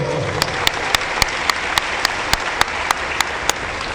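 A church congregation applauds in a dense, steady wash of clapping, with sharp, evenly spaced louder claps ringing out in a regular rhythm throughout.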